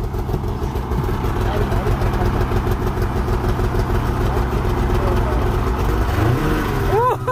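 A motor scooter engine runs steadily and close by as a young girl rides it, with a continuous mid-pitched drone and a rising whine near the end.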